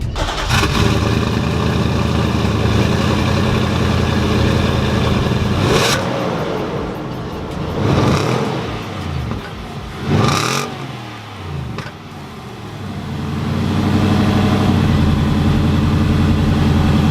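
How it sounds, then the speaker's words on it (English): A Nissan Titan SL pickup truck starts up and revs, its exhaust rumbling deep and loud close by, with several throttle blips rising and falling before settling back into a heavy idle. "When you fire this thing up, it's got a rumble to it, which is great."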